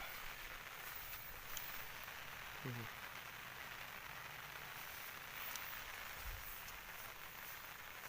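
Rain falls outdoors during a catfish fishing trip, a faint, steady hiss of drops that runs unbroken from start to finish.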